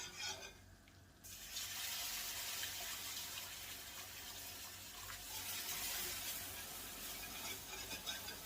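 Chicken broth poured into a hot pan used for frying cubed steak, a steady hissing sizzle with watery splashing that bursts in after a brief lull and continues loudly and evenly, with no talking.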